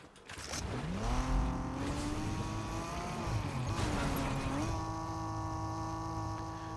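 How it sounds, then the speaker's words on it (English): Honda Civic engine in a video game revs loudly with a steady droning tone that rises and dips in pitch, sustained and close throughout, backed by a faint electrical hum. "Honda Civic is loud, but always the case."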